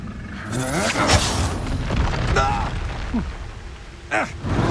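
Spell blasts from Hogwarts Legacy, the Expulso and Incendio combat spells, thump and whoosh in a series of booms amid game sound effects and a character's spoken lines.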